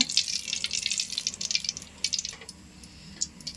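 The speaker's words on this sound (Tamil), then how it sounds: "கடாயில் எண்ணெயை ஊற்றிக்கோங்க" Cooking oil is poured into a kadai, giving soft, close, irregular trickling and dripping splashes that taper off toward the end.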